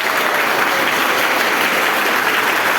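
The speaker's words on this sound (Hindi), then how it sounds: "एक बार जोरदार तालियां बजाकर बता दीजिए।" Loud, dense applause from a large live audience at a lecture on transformers, a steady wash of clapping holding evenly for the whole stretch with no talk over it.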